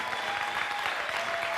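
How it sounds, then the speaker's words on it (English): A television talk show studio audience claps steadily, a dense burst of applause filling the room with no voices heard above it. "the audience broke into applause when you got the script there"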